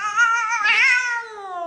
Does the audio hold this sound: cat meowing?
yes